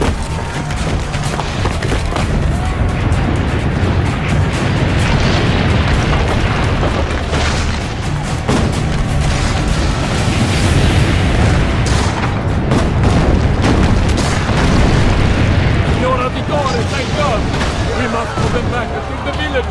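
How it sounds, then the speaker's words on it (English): Cannons fire in a battle in Assassin's Creed Brotherhood, with repeated heavy booms under a dense, continuous din of combat. "Load the cannon. Destroy their cannons!"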